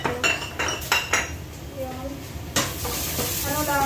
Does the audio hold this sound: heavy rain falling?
no